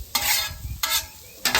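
Chicken fried steak frying loudly in chorizo grease, with bursts of sizzling and stirring coming in three surges, no talking.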